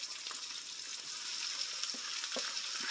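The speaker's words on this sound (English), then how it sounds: "once your onions and garlic are tender, you're going to add your cabbage" Cabbage fries in a big pan with tender onions and garlic, giving a steady, fairly quiet sizzle with light stirring scrapes and no talking.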